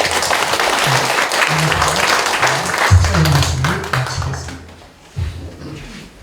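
A church congregation claps steadily in sustained applause during a sanctuary dedication service, with voices rising over it before the clapping thins out and fades.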